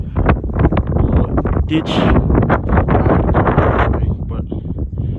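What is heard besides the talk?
strong wind at Rockhound State Park, New Mexico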